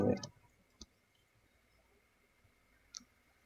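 A few sharp computer mouse clicks, alone and fairly close, while selecting colours and settings for a rotate tool in graphics software; one click at the start, another shortly after, and a final one near the end, with quiet pauses between.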